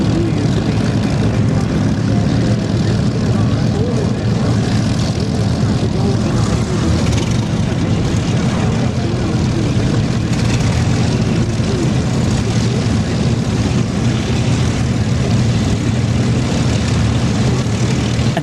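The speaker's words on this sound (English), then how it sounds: "we got some great action from Duxford coming up this evening. So if you like your warbirds, oh boy, turn the sound up" Warbird propeller aircraft flying at the Duxford air show make a loud, continuous engine roar and drone that stays steady and close for the whole stretch.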